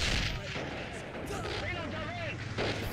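Heavy gunfire and shell blasts from a BL-45 114mm gun in the World War II strategy game Men of War: Assault Squad 2, sounding as a steady rumbling battlefield din with a sharp loud report at the very end, under faint speech.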